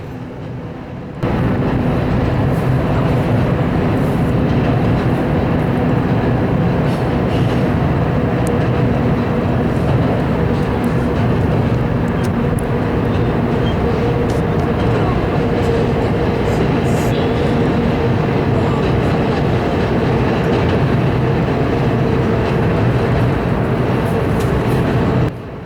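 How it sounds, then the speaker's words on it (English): A southbound intermodal freight train passes close by, with a loud, sustained roar of wheels and cars and rhythmic rail clatter. It continues steadily for over twenty seconds with no speech. "Then, a southbound intermodal train came up."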